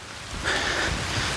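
Steady rain hissing across a forest on a mountainside in the Philippines, a continuous close wash of drops with a faint brief tone in the middle and no talking.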